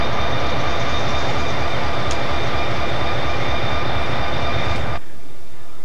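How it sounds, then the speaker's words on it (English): Loud, steady rumble of a BM&R excursion train with locomotive 5513 on the front end, with a high sustained whine, heard close up, cutting off abruptly near the end. "this is our train after they put the engine on the front end"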